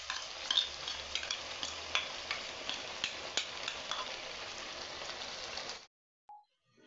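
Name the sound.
sauce added and stirred into soya chilli manchurian in pan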